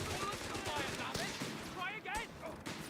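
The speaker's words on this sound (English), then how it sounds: "The Vickers is going to suppress the Panzer Pios." Vickers machine gun fire during a Company of Heroes 3 2v2 tournament match, coming as clustered bursts of shots mixed with other battle noise, with a commentator talking over it throughout.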